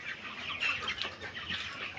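Poultry-farm chickens about 26 days old cluck faintly and continuously in a soft, distant chorus, with no speech.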